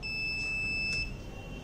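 The buzzer of an underground cable fault distance locator, switched on by a transistor, sounds a thin, steady electronic tone with a brief louder pulse, heard alone.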